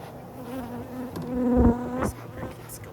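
Honey bees buzz close around an open hive, a dense droning hum that swells and fades as individual bees pass near, with a few faint bumps and handling sounds.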